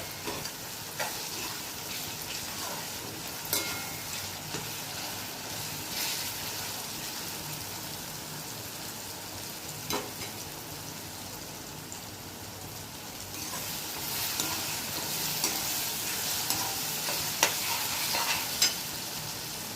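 Ginger garlic paste and tomatoes fry in a pan with a steady hiss, broken by scraping stirs and occasional sharper crackles. The sizzle grows brighter and louder toward the end, with no one talking.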